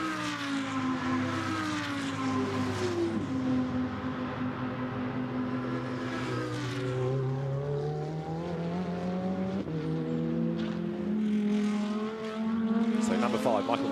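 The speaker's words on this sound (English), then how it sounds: "Oh so distinctive Audi engine notes as they accelerate up through the gears." Audi GT2 race cars at Monza accelerate through the gears, their engine notes climbing and dropping at each shift in a loud, continuous howl under a commentator's voice.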